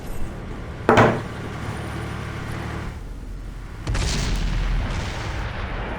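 A tank gun fires in World of Tanks, the 113 or Conqueror on the Karelia map, giving a sharp loud boom near the one-second mark and a heavier rumbling blast around four seconds over constant engine hum.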